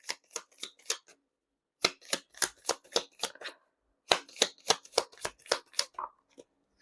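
Tea leaf fortune cards are shuffled close up in quick, crisp riffling bursts, three runs separated by short pauses, quiet and with no talking.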